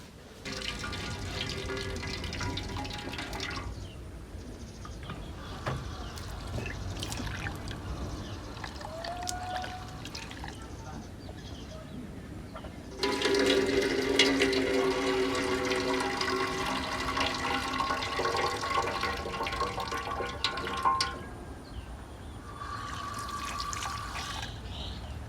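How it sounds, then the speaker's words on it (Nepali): Cold water runs from a tap over boiled green bananas in a sink, a steady splashing flow that swells louder midway through, long and continuous, with faint clinks. "अब यसलाई चाहिँ पखालिदिन्छौँ हामी चिसो पानीले"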